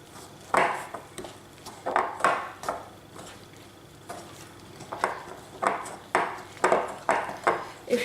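A spoon works through vegan quinoa chocolate brownie batter in a bowl. Wet ingredients are being folded into dry ones, and the utensil clinks and scrapes against the side in irregular strokes, close and fairly quiet.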